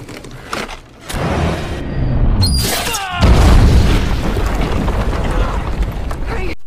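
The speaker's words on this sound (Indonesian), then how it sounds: "dinamit itu pun meledak dengan dahsyatnya" Dynamite blast in a film scene: a deep, loud boom rolls in and sustains as heavy rumbling debris noise with a second surge, amid busy soundtrack layers including brief tonal sweeps.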